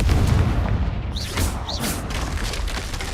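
A blast spell explosion in the Hogwarts Legacy video game, heard as a loud low boom over a rumbling background with a couple of whooshing magical bursts, no talk over it.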